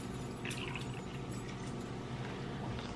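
Water poured into coffee concentrate in a home kitchen, a steady close liquid trickle and fill sound running for about three seconds under a constant low background hum.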